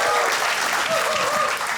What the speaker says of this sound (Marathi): एकदा जोरदार टाळ्या भाई प्रेम गायकवाडसाठी